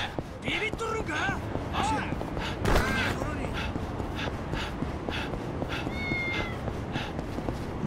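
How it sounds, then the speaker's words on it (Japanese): A cat in the video game Yakuza 6: The Song of Life gives a series of short, high meows, several in a row and then a couple more, over a steady in-game street ambience. "猫か。"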